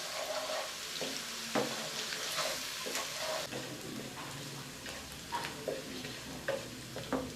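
Egg korma base frying and being stirred in a pan to brown lightly: a steady sizzle runs throughout, broken by repeated scraping strokes of the spoon, close and fairly loud, with no voices.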